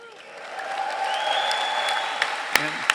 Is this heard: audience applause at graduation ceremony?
yes